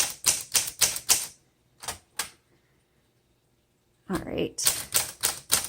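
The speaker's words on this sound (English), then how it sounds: "Well, this would be a good typewriter for a romance novel." Typing on a 1936 Corona Sterling Flat Top typewriter: quick bursts of close, loud key strikes, a pause with two isolated strikes, then another rapid run of clacks, with a brief spoken remark in between.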